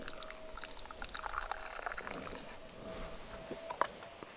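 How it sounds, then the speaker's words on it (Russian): Tea pours from a Ranger Expert 1.2-liter drinking thermos for fishing, a quiet, steady trickle of liquid running for several seconds with soft clinks near the end. "вы наливаете чай"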